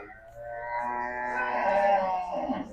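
At Gabtoli cattle market, a cow gives a single long, low moo that swells and then fades over a few seconds, fairly close, with a faint background murmur.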